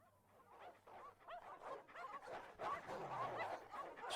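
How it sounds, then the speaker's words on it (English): Hounds in the visual novel Mahoyo growl and snarl in a very faint, low, continuous rumble, with whimpering yips over a quiet game backdrop. "the sound of growls grew louder"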